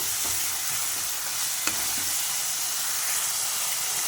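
Masala with garlic paste sizzles and fries in a pan for a Kerala-style chicken curry while a spoon stirs it, a continuous close hiss broken by a few scraping stirs, with no talk.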